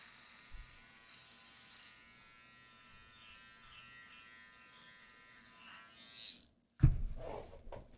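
An electric shaver buzzes steadily while shaving a beard for the first time, a thin close-up drone lasting several seconds that cuts off abruptly, followed by a burst of louder handling noise.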